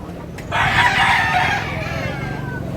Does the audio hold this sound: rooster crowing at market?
yes